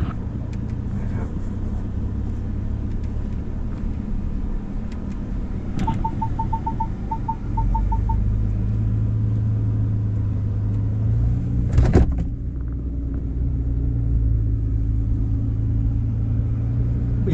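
A Ford Ranger Raptor pickup creeps slowly over off-road terrain, its engine a steady low rumble heard from inside the cabin, with a brief electronic beeping chime and a short knock partway through.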